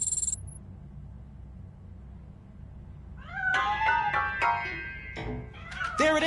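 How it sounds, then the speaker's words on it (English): A cat in the video game Robocop Rogue City gives several rising meows in a row, near and clear over a low ambient hum, after a short bright chime at the start. "That cat must be hiding inside."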